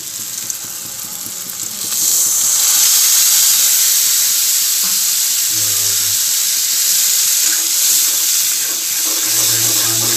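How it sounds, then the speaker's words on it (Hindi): Water poured into frying masala in a pan sets off a loud, broad hiss of sizzling and steam that jumps up after about two seconds and keeps going, with a few short voice fragments over it. "अब इसमें थोड़ा हम पानी को ऐड करेंगे,"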